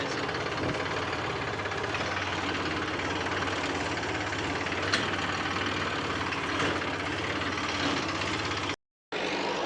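A tractor hitched to a cart runs with a steady, close, low rumbling engine drone that holds evenly and then cuts out for a moment near the end.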